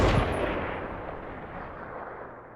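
Gunfire in a PUBG-style shooter video game: a loud, close blast at the start that fades into a long rolling echo and tail, with no talk over it.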